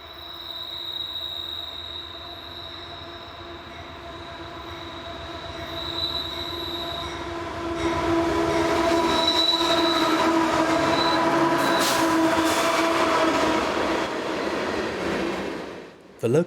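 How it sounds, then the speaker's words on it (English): A CSX eastbound unit coal train hauled by two AC44CW locomotives rolls past, a steady heavy rumble and rattle of wagons swelling as it nears, with high wheel squeal and screeching through the latter half. "First, an eastbound unit coal train."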